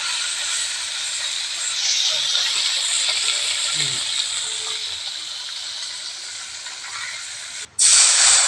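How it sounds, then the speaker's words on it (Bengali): Fish frying in oil in a wok-style pan (kadai) over a stove, a steady broad sizzle and hiss running throughout, fairly loud, with a brief dip near the end before the sizzle returns. "মাছটা ভাজা হচ্ছে।"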